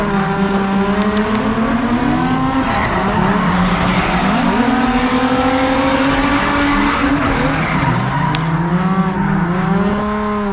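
A drift car skids through drift training runs, its engine droning and revving in strong harmonic sweeps while tires squeal continuously, loud and close throughout with no break.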